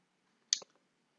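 A single short computer mouse click, crisp and close in otherwise near-silent surroundings.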